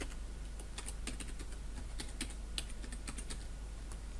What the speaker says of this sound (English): And then of course, I'm going to go ahead and type in a password. And type that password again.